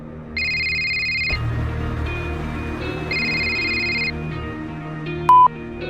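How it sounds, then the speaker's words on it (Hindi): Incoming mobile phone call sounding as a repeating electronic ringtone, bursts of bright tones interrupted by a pause, over a low background hum with a short beep near the end. "तभी उसे टोनी का कॉल आया"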